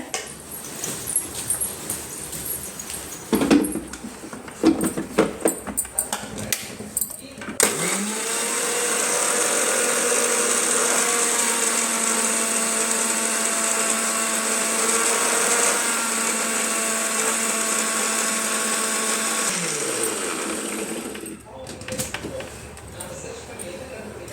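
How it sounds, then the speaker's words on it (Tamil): A mixer grinder blends pomegranate juice with sugar in a steady, loud whir lasting about twelve seconds, starting abruptly and winding down, with brief rustling and handling noises before and after. "இப்போ நம்ம போய் இதை மூடி மிக்சியில் அடிக்கலாம்"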